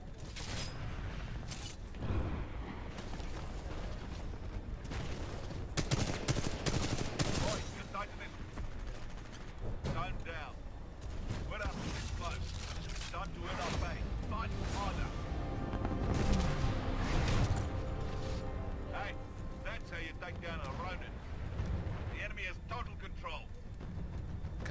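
Rapid bursts of gunfire crackle repeatedly in Titanfall 2 multiplayer, with game soundtrack and effects, while a voice talks intermittently over the shooting.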